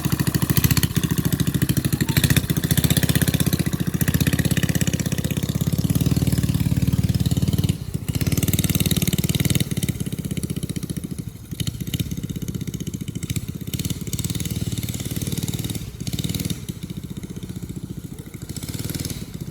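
A small homemade minibike engine, built from spare shed parts, runs steadily at close range, a loud continuous buzzing idle with slight rises and dips in revs and no talking.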